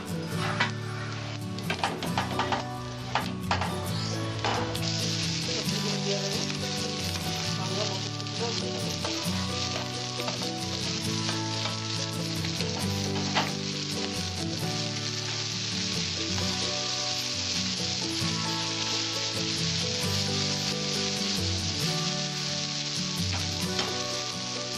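Dal tempering sizzles loudly and steadily in a hot pan for a Bengali wedding-style vegetable dal, a dense continuous frying hiss that lasts the whole stretch with a few clinks near the start and no voices.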